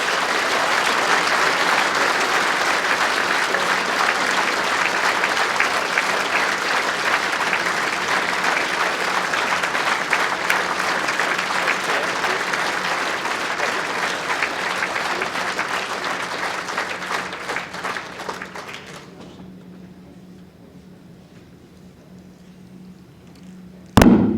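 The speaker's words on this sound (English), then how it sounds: "Give them a nice round of applause." A crowd at the 2016 World Bowls Championship final breaks into loud, sustained applause that holds steady for about eighteen seconds, then thins out and fades to near silence.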